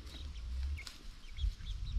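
Australorp and Orpington chickens cluck on a farm, giving soft, scattered calls over a low rumbling background.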